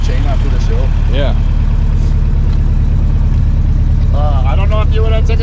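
A rebuilt Toyota engine with a worn timing chain runs steadily after a bodydrop build, a loud, constant low drone close by, with voices talking over it throughout.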